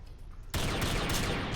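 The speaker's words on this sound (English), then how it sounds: "Let's miss every shot and then reload." Rapid gunfire bursts from SYNTHETIK 2, a top-down shooter video game, kicking in abruptly after a quiet moment and running as a dense, loud, continuous volley of shots.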